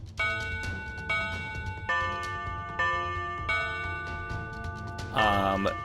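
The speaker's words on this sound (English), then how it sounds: "You hear 6 chimes." Six chime-like tones ring in slow succession, each bright struck note fading before the next, from a tabletop role-playing game scene, followed by a brief louder sweep at the end.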